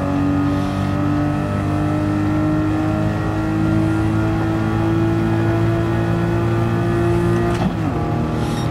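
A 1960s Ghia car engine in the Gran Turismo racing game, held at a steady high-revving buzzy rasp with a strong constant tone, then a brief pitch dip near the end as revs shift.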